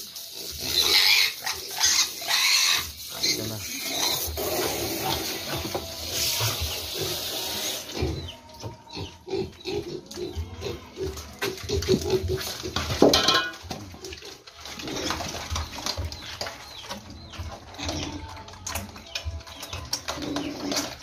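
Pigs squeal and grunt loudly and continuously while being bathed with water before feeding, with clattering of metal pans and splashing mixed in throughout.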